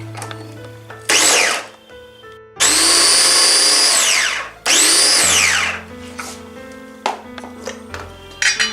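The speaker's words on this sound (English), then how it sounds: "Now let's chop the onions." A Preethi Turbo Chop electric chopper whirs in loud bursts as it chops onions, with three or four high-pitched motor runs of one to two seconds each, separated by pauses and followed by lighter taps and clicks.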